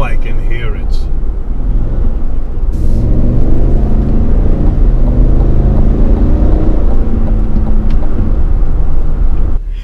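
The 6.2-litre V8 of a 2021 Cadillac Escalade gives a deep, muffled rumble and growl from inside the cabin. It swells steadily while a voice talks over it.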